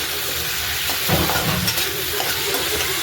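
Chillies fry in a chicken masala gravy, with a dense close hiss of sizzling and a short burst of stirring partway through.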